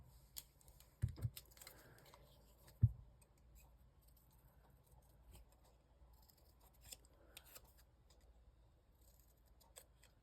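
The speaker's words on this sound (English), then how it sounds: "I need my scissors." Scissors snip at fabric scraps during a sewing and craft session, giving a few sharp close cuts early on, then quieter scattered snips and rustling at a low level.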